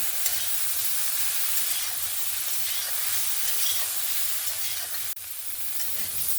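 Cauliflower florets, parboiled earlier, frying in a pan with a little turmeric, a steady close sizzle and hiss running throughout with a brief dip near the end, no voices.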